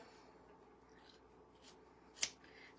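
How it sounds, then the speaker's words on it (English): Scissors cutting fabric into strips give one sharp, brief snip near the end, with only quiet rustling before it. "what I do is I can take and cut it into strips"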